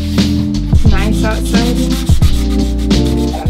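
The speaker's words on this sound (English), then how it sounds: "So I'm just gonna lightly sand, because even though this is brand new, there's just still those little fuzzy splinters sticking out." Light hand sanding across a brand-new wooden door, a steady close-up rasping scrape repeated in short back-and-forth strokes with an even rhythm, loud and alone with no voices.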